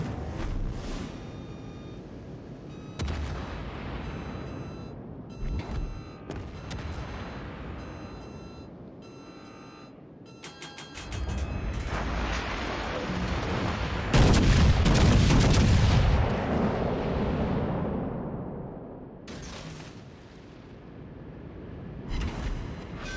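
Naval guns in a video game firing repeatedly on an enemy cruiser, a string of heavy booming shots building into dense, loud volleys with rumbling blasts, no talking.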